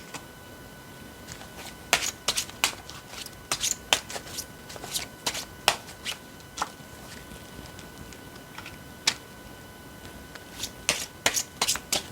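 Tarot cards being shuffled close up, a steady run of crisp riffling and slapping bursts spread across the whole stretch, with no talking.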